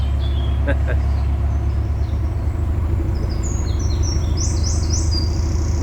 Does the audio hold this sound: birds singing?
yes